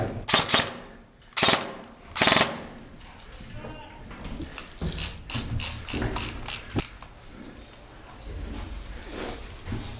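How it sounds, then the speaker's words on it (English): Airsoft guns fire at an outdoor airsoft field in a few loud, sharp bursts of rapid shots, followed by scattered quieter pops and clatter, while players talk nearby. "Somebody shot at me."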